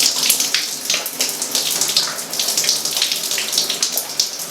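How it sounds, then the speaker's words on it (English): Warm shower water running onto hair during rinsing, a steady hissing splash with uneven patter that stays loud and close throughout, with no talking. "Honestly, I rinse my hair with warm water and take it from there."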